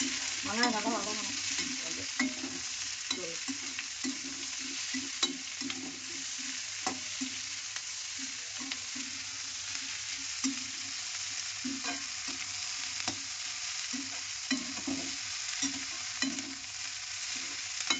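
Onions frying in a pan for a chana dal chutney, with a soft continuous sizzle under repeated scraping and clinking as a spoon stirs them.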